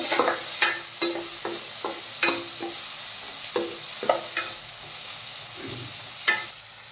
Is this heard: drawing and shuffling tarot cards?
no